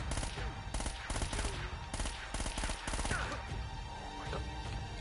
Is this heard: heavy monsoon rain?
no